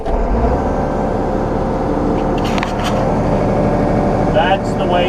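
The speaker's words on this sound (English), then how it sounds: "That's the way a tractor is supposed to start." A John Deere 6115M tractor engine cranks and catches cleanly, settling into a loud, steady diesel rumble close by, with a few light clicks and rattles over the idle.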